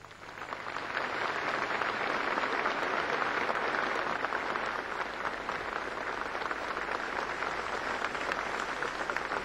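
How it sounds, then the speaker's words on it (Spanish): An audience at a poetry award ceremony applauds after a poem reading, a dense sustained wash of clapping from a full hall that swells quickly and holds steady, slightly distant, with no talking over it. "Aplausos"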